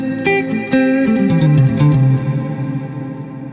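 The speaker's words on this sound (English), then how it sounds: "So this should be like the highest pre-delay you can get. You can hear this gap between the attack and when the reverb kicks" An ambient electric guitar plays through a GFI System Skylar reverb pedal set to a long pre-delay, with a few plucked notes and chords followed by a wide, washing reverb tail that swells and then slowly fades.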